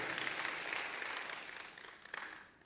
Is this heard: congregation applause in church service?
yes